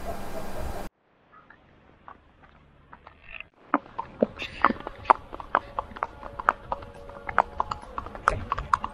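Horse hooves clip-clop on a ride through a Pahalgam valley in Kashmir, a quick run of sharp, close strikes in an uneven rhythm that starts after a short near-silent gap and keeps going to the end.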